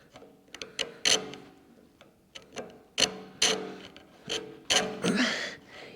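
Mini metal lathe mechanism turning, with repeated clacking, ratcheting knocks at irregular intervals and a rougher grinding burst near the end, close and alone without talk.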